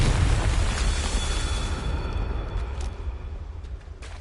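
Explosion spell cast in the Hogwarts Legacy video game, a loud broadband blast that rumbles and slowly fades over several seconds, heard alone.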